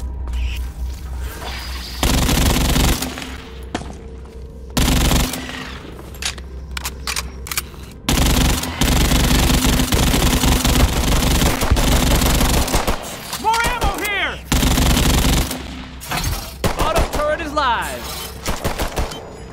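Rapid automatic gunfire in the co-op shooter Earthfall, with loud sustained bursts and single shots spread across the stretch, and brief voices between volleys.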